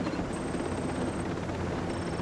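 Helicopter in the video game Ghost Recon Breakpoint: a steady, continuous rotor and engine drone at moderate level, droning evenly with no break and no voices over it.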